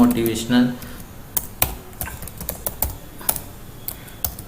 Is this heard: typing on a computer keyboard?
yes